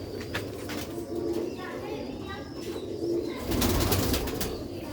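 Pigeons give low, rolling coos close by in repeated bursts, with someone talking over them at times.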